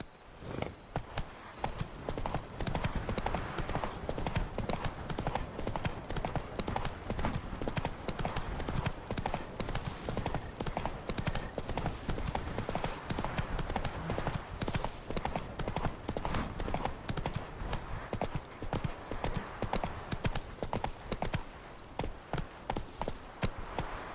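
Roach the horse galloping in The Witcher 3, a rapid, driving rhythm of hoofbeats clattering steadily and close for a long stretch, with a faint snort near the start.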